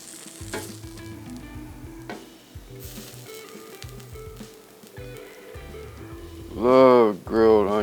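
Poblano, yellow pepper and onion seasoned with habanero salt-pepper-garlic blend sizzle softly on a grill under rhythmic low clatter, ending with two loud bursts of hissing sizzle.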